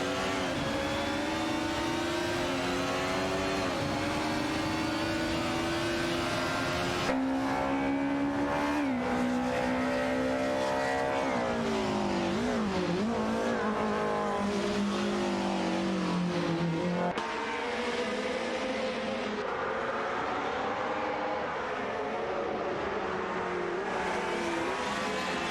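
Race cars in an AI-driven racing video game scream past on track, their high engine notes rising and falling with gear shifts and revving, loud and continuous with several cars overlapping and no voices.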